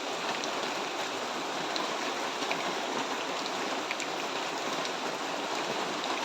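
Steady outdoor rainfall, a dense even hiss with scattered faint drops, heard alone and at moderate level throughout.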